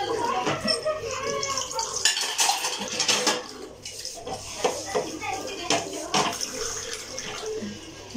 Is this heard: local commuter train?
no